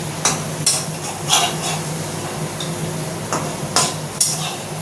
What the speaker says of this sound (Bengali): এবার একটু হালকা হালকা নাড়তে থাকি আবার নাহলে মশলাটা পুড়ে উঠবে